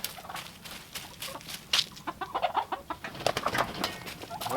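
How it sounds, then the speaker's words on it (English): Chickens cluck in quick, irregular bursts, fairly close but not loud, over a soft outdoor background on an off-grid homestead. "Watch out, chicken."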